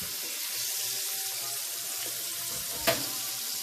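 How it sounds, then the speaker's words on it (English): Turkey wings frying in hot oil, a steady close sizzle with a brief louder crackle near the end and no talking. "I'm gonna fry them again"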